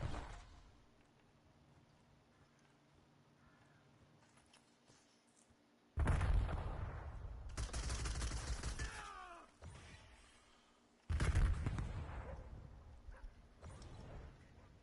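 Automatic gunfire in the Black Ops 7 video game bursts out loud in two sustained volleys, each several seconds long, separated by a short quieter gap over a low game ambience.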